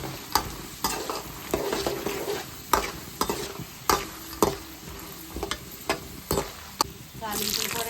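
Chana dal, urad dal, mustard seeds and cumin fry in hot oil for a tempering, a steady close sizzle broken by repeated sharp scraping clicks of a spoon stirring the pan, with no talk.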